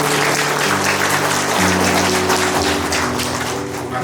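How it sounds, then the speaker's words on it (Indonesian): A church congregation claps together in a steady, dense wash of applause with a sustained organ-like tone underneath, loud and continuous throughout. "mari kita berikan aplaus"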